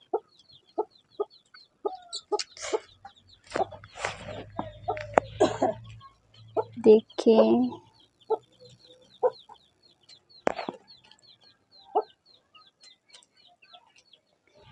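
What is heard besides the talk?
hen and chicks clucking in a village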